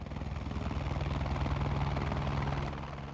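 A helicopter flies toward the USS Blue Ridge command ship to land, its rotor thumping in a steady, dense beat, loud and close throughout with no talk.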